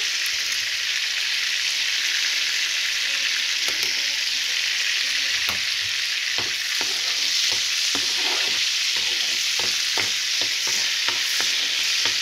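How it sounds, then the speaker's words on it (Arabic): Meat frying in ghee and oil gives a steady, loud broadband sizzle that runs unbroken, with scattered crackles and spits popping through it. "ودلوقتي بقى هنحمر اللحمة"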